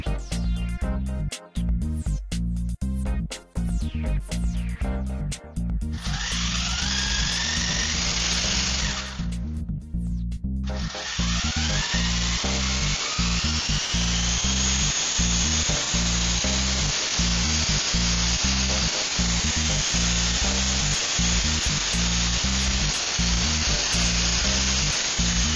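A Honey Bee electric RC helicopter motor runs with a loud, steady high whine, cutting out briefly partway through before spinning back up and droning on continuously, close by.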